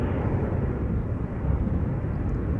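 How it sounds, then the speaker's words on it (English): A KLM airliner at Schiphol Airport, bound for Düsseldorf, roars steadily and loudly nearby as a continuous broadband jet rumble with no talk. "Going to JD's hometown of Düsseldorf, KLM flight 1799."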